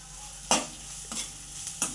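Ginger, garlic and coconut paste sautéing in hot oil, a soft continuous sizzle broken by three sharp spatula scrapes against the pan, close up with no voices.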